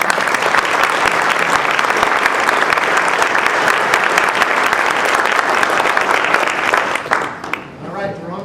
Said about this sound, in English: will you give them applause?